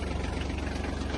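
A Kubota GL-27 Japanese mini tractor engine idles steadily up close, a smooth, even diesel rumble with a regular low pulse and no voices.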